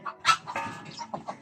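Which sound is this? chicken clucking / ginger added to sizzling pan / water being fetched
chicken clucking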